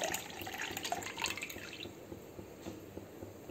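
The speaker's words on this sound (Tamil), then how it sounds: "ஊற்றிடலாம்" Liquid poured while preparing a homemade hair colouring mixture on a stove, a soft trickling and dripping splash close by that tapers off, faint and without speech.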